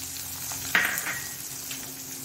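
Curry leaves, green chilli and onion hit hot oil in a pan for jowar upma, giving a sudden close sizzle that settles into a steady frying hiss.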